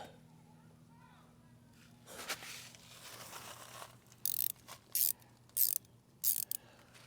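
Bolts being tightened into small nutserts in aluminum on a John Deere 2653A mower, heard as a quiet stretch followed by several short, loud bursts of ratcheting clicks with brief pauses between them.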